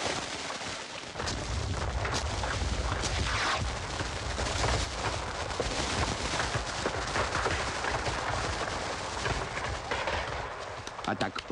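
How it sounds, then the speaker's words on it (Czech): Fireworks crackle and boom in a Czech animated cartoon, a dense, continuous barrage of pops and bangs that fills the whole stretch at steady loudness, with background voices mixed in. "A tak ohňostroj nakonec spustil Krkovička"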